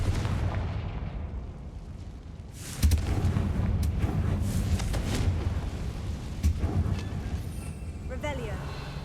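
Confringo blasting spell explosions in the Hogwarts Legacy video game, heavy booming blasts over a constant rumbling game soundscape, loud and close.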